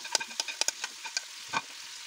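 Onion with ginger-garlic paste is stirred in a pan: a string of sharp spoon clicks and scrapes at irregular intervals over a faint background, fairly close and quiet.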